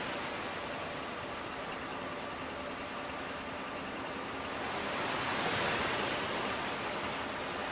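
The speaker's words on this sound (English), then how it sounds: "The waves are crashing all over us." Stormy sea waves crash around a divers' boat at night in a dense, continuous roar of wash and spray that swells louder toward the end, with no voices.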